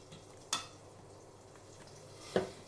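Two sharp scraping clinks of a utensil against a pan stand out over a soft, steady sizzle, quiet and close.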